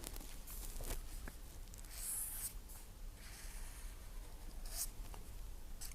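A gear tooth being sketched with chalk or pen: faint, soft scratching strokes come in short bursts with brief pauses, quiet and unaccompanied by speech.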